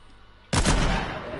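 A single gunshot in Fortnite fired by accident from a PlayStation controller: a sudden loud blast after quiet, then a lingering booming tail.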